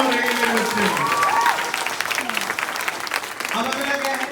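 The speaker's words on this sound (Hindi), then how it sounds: "तालियां कमजोर है ये बच्चे।" Children applaud in a classroom-style session, with steady clapping that stays fairly loud for the whole stretch while voices sound over it.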